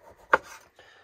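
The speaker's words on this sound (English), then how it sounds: "Thinking maybe some thinly sliced onions" A knife cuts thinly sliced onions for a pizza topping on a board, one sharp chopping knock followed by a softer slicing rub, close and brief with no talking.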